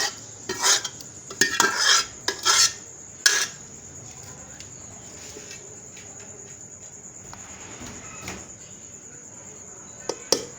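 Leftover rice is tipped into a beef biryani pot with a few close clinks and scrapes of a spoon against the metal pot, then a quieter stretch under a steady high electrical whine, with one more clink at the end.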